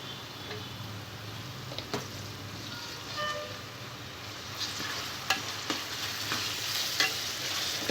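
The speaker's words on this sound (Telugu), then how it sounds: "ఈ అల్లం వెల్లుల్లి పేస్ట్ పచ్చి వాసన పోయే వరకు ఫ్రై చేసుకోవాలి." Ginger garlic paste fries with onions in a pan, making a continuous close sizzle with stirring scrapes and a few sharp utensil clicks toward the end, and no talking.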